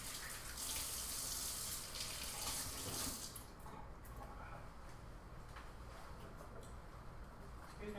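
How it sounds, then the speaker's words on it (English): Hands rinsed under a running kitchen tap while preparing fruit, with a steady gush of water for about three seconds before the flow stops and softer dripping and handling sounds continue. "I'm going to rinse my hands off just because I got some apple schmutz under my nails."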